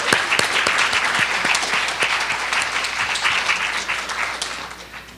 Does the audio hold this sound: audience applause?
yes